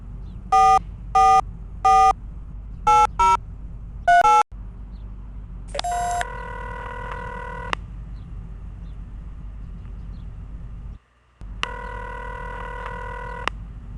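Telephone dialing in The X-Files Game: a series of short DTMF keypad tones in uneven bursts, then a brief ring tone and repeated electronic ringing pulses over a low background hum, clear and close.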